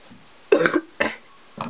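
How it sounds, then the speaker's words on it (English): Three short, harsh coughs from a man fighting a cough, two close together and a fainter third after a brief pause, close and alone in a quiet room. "I might cough a few times throughout this video. I'm fighting a cough."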